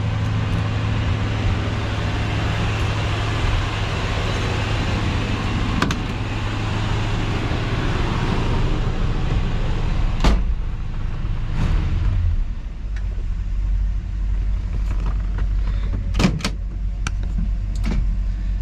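A 1966 Ford Galaxie 500 convertible driving, heard from inside as a steady low engine rumble and road noise. Near the end the engine drops away and several sharp clunks and knocks follow.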